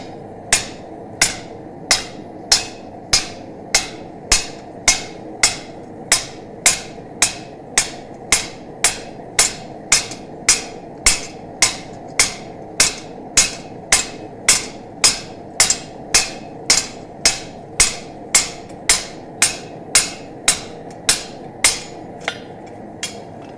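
A hammer forges metal pipe on a butcher die with sharp, ringing blows in a steady, even rhythm, about forty strikes, loud and close, with no talk.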